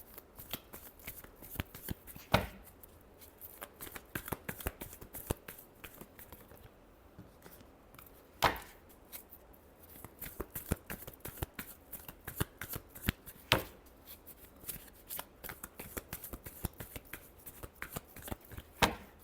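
A deck of tarot cards is shuffled repeatedly by hand. The crisp, riffling bursts and soft slaps are close and intermittent over quiet room tone.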